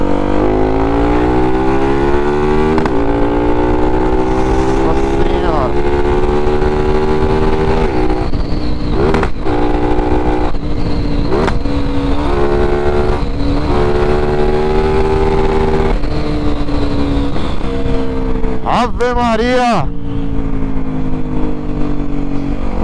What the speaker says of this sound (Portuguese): Bom demais andar de moto